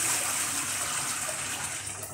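Potatoes being washed in water in a kitchen, a continuous close splashing and gushing wash of water with no talk.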